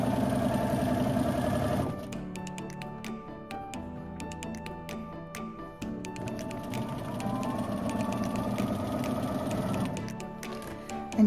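A sewing machine stitches offset fabric seams in a steady mechanical run, its motor hum dropping briefly and then resuming, with a rapid ticking of the needle throughout and no voices.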